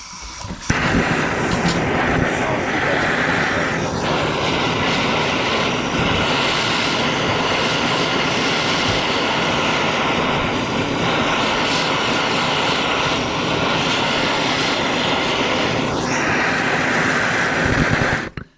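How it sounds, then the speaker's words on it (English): MAPP gas torch roasting a coconut for a Trinidad-style choka, a steady loud roaring hiss running throughout with occasional louder bursts, no speech. "I'll use my torch, one of these mop gas torch, and this is a 12 torch"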